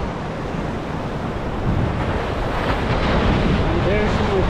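Strong wind buffets the microphone over steady crashing ocean surf at La Jolla, California, a dense continuous roar with no voices.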